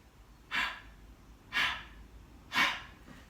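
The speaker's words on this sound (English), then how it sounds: "Listen to my breathing." Three sharp, forceful exhalations at an even one-second pace, each a short breathy blast during a leg-raise exercise, close to the mic with quiet room between them.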